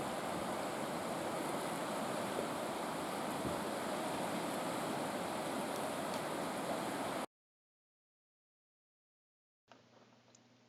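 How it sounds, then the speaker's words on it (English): Fast-flowing Wairaurahiri River in New Zealand, swollen by recent rain, a loud continuous broadband rush of water that cuts off abruptly partway through and returns faintly near the end. "It is fast-flowing river, going faster than normal with the recent rain."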